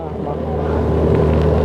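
A motorboat engine drones steadily at close range on Yercaud Lake, a low rumble with wind buffeting the microphone.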